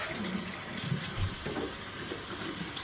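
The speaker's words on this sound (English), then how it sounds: "Keep that sink running." Water runs steadily from a kitchen sink tap while small model kit parts are rinsed, a constant close splashing hiss that carries on without pause.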